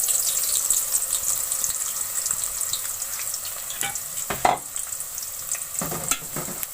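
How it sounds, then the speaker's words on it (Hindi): Long-sliced onions hit hot cooking oil in a pan and sizzle steadily, with a stirring clatter and scraping bursts partway through, close and fairly loud. "2 मैंने प्याज लिए लंबे साइज में काट लिए, अब शामिल कर लेंगे।"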